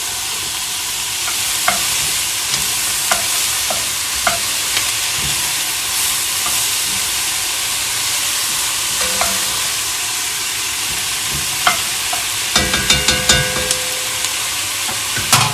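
Onions and peppers sizzle steadily in a pot for chipotle chili, a continuous bright frying hiss with scattered spoon scrapes and clinks, growing into a cluster of stirring knocks near the end.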